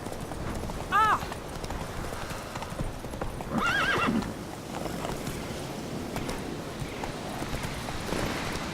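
A horse in The Witcher 3 gallops with steady rhythmic hoofbeats, letting out two whinnies early on, with wind and a voice cheering it along in the background.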